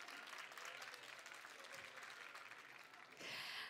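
Audience at a high-school literary prize ceremony applauding steadily and fairly loud throughout, with a brief burst of talk partway and the clapping swelling near the end.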